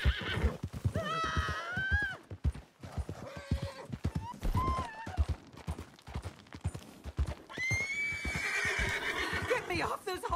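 Horse whinnies and neighs in Red Dead Redemption 2, several rising, wavering calls over a steady clip-clop of hooves, up close and loud.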